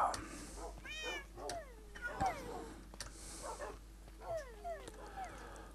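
Several meows from cats in Minecraft, rising and falling calls repeating in quick succession over a quiet background.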